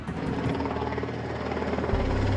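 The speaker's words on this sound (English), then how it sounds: "The plan is for the RAF helicopter to guide him round." An RAF helicopter flying, its rotor thudding in a steady rapid beat with a constant engine drone, fairly even in level throughout and heard alone.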